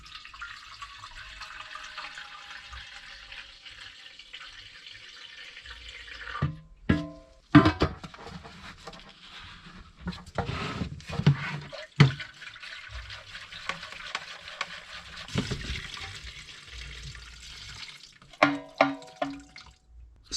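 Fresh petrol poured back into a Honda GX200 generator's fuel tank gives a steady, faint liquid trickle for several seconds, then turns to intermittent splashes, knocks and handling clatter near the end.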